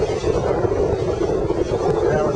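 Strong wind on an island buffets the microphone in a steady, loud roaring rush with no letup.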